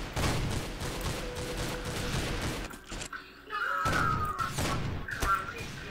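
Heavy shotgun blasts and rapid gunfire thump through a first-person shooter match, dense bursts with a brief lull, overlaid by game effects and a player's voice.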